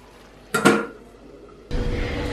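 Metal lid set onto a cooking pot with a close clank, followed after a pause by a steady simmering hiss.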